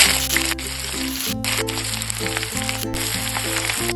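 Onions frying in hot oil in a kadai give a steady, close sizzle that runs the whole time, with a continuous tonal hum underneath.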